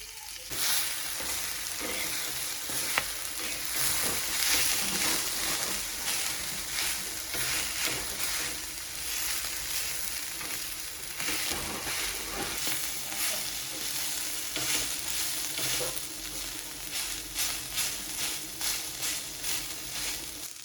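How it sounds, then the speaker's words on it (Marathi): Five lengthwise-sliced onions frying in a pan until golden brown, a steady close sizzle with repeated scraping stirs throughout, no speech. "पाच कांदे उभे चिरून घेतलेले आहेत ते पण गोल्डन ब्राऊन करायचे आहेत"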